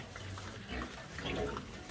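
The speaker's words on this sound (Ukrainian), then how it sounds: "О, гризуть як гарно рильця чорні." Young piglets gnawing on an object and grunting softly, with low snuffling grunts and chewing noises close by, no talk.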